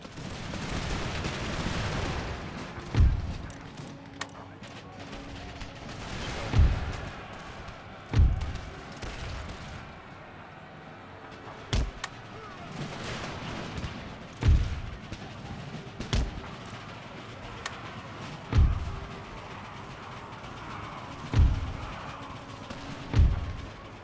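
Musket volleys and artillery booms in a Napoleonic-era battle in Empire: Total War, sharp heavy reports recurring every few seconds over a low battlefield ambience.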